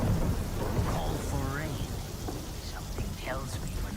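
Steady rain with rumbling thunder from a video game storm scene, a continuous dense wash throughout, with a few brief tonal game sounds sweeping over it.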